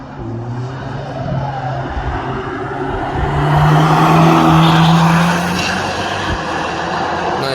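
Prototype cars run laps of the Nürburgring, engine noise swelling as one approaches and passes loudly around the midpoint before easing back into a steady distant drone.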